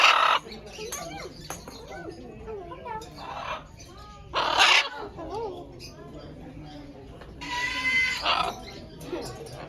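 A green-winged macaw gives harsh squawks and short raspy calls, several bursts spread through the clip, close and fairly loud, with a person talking softly in between.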